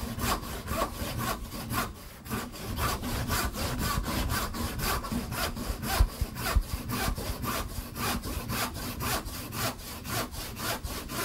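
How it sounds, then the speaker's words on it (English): Hand saw cutting a tenon cheek in wood, a steady run of rhythmic back-and-forth strokes, close and loud, continuing throughout with no talk. "we can come over and we can saw"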